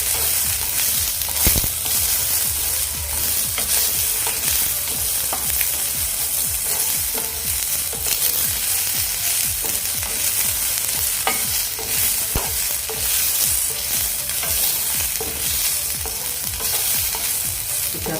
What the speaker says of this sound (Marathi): कांदा भी लाल होईल त्यासाठी आपल्याला भाजून घ्यायचा आहे